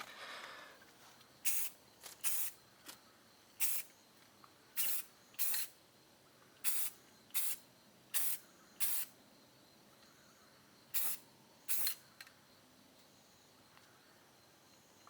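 A base coat being spray painted onto an Audi Q5, short sharp hissing bursts of aerosol spray repeated about a dozen times at uneven intervals, close and clear against a quiet background.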